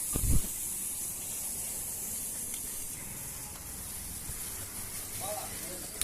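Onions sautéing in a pan for a mint egg poriyal give off a steady, broad hiss and sizzle throughout, with a short clatter near the start.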